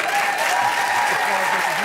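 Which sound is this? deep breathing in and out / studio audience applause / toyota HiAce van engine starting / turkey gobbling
studio audience applause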